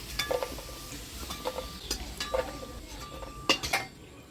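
Potatoes fry for a Bengali banana-flower curry, with a soft steady sizzle under repeated stirring and scraping of a spatula against the pan, plus occasional light clinks of metal.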